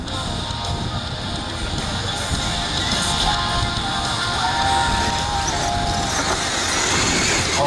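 Whining electric motors of small RC trucks racing at the 2018 RCMTC World Finals, a buzzing high-pitched drone that rises as they speed past, with faint background noise.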